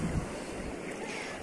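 Black Sea surf at a beach near Zatoka, a continuous broad wash of waves with wind noise buffeting the microphone, close and fairly loud.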